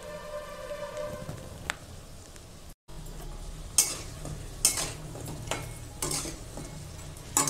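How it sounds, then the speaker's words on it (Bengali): Egg bora fritters fry in a pan with a soft, continuous sizzle broken by repeated sharp clinks and scrapes of a utensil stirring and turning them, close and fairly quiet. "এইভাবে করে সবগুলো বড়া ভেজে নেব।"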